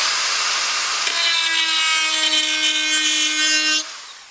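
A DeWalt DCG426 cordless die grinder on a 5 amp hour battery whines steadily at high pitch, loud and close, grinding on for several seconds before cutting off abruptly.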